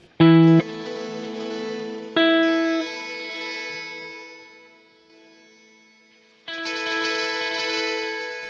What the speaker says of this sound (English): Then you get the ability to add harmonies with your reverb